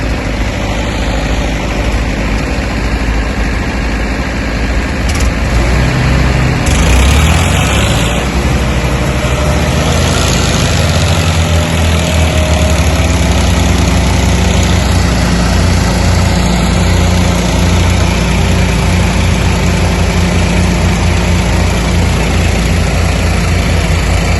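Tractor engines idle continuously in a Punjabi field during sapling uprooting work, a steady deep rumbling drone with vibration, loud and close throughout, with no voices.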